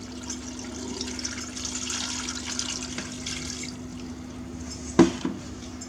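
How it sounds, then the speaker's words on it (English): Water pours from a tap into a pot of cut limes for marmalade, a steady close rush with a sharp clatter near the end. "we're going to add 1 quart or 1 liter of water"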